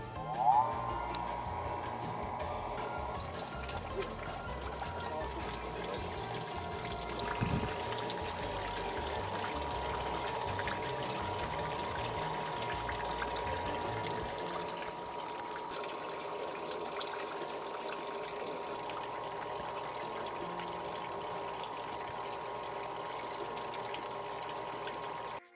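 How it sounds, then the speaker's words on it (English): Fresh water from a hose is flushed steadily through an outboard engine by a descaling system, giving a continuous, even rushing and trickling sound that holds for the whole stretch with no talk. "Turn our system on and begin our descaling."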